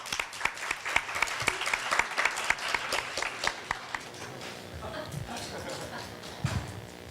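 Audience applause at a Korea University speech contest greets a presenter taking the stage, a dense crowd clapping with sharp individual claps standing out. It fades into voices and shuffling near the end.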